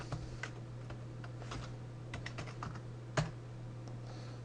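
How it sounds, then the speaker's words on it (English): Someone types random letters on a computer keyboard. Irregular quick key clicks sound close but quiet over a steady low electrical hum, with one louder keystroke near the end and no talk. "I'll just bang on some letters like a monkey"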